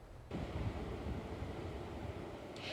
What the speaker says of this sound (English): Hurricane Ian still bringing some pretty heavy impacts here with this heavy rain and wind at times, some pretty strong gusts